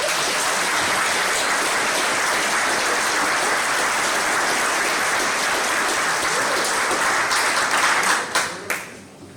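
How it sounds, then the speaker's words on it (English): Sustained, dense audience applause fills a United States Army retirement ceremony for a lieutenant general at The Citadel, steady and loud throughout before tapering off near the end. "Please join us in a round of applause."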